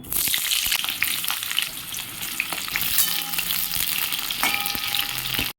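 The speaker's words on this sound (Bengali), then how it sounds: "কড়াতে দিয়ে দেবো কিছু পরিমাণ তেল পটলগুলো ভেজে নেব" Pointed gourd (potol) pieces fry in oil in a wok on a low gas flame, giving a loud, continuous crackling sizzle with occasional stirring scrapes and no voices.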